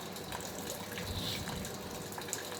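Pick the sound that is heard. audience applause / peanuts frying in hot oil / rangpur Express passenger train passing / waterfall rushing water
waterfall rushing water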